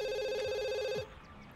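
A telephone rings in The Sims 2, with a steady warbling electronic trill that repeats for about a second and then stops, leaving quiet background game sounds.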